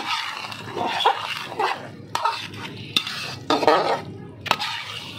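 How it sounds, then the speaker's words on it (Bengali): Chicken biryani is stirred in a pot, a series of scraping, clinking utensil strokes against metal in an irregular rhythm, close and moderately loud, with faint sizzling underneath. "এগুলোকে দেখুন আমি একদম ভালো করে নাড়াচাড়া করে দিয়েছি"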